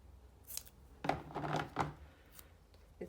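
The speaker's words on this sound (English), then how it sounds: "I'm simply taking a short piece of the double-sided sticky tape and dividing it into 2 strips." Scissors snip a short piece of double-sided sticky tape into two narrow strips while making an embellished acetate burger box; a few close, quiet cuts in an otherwise still room.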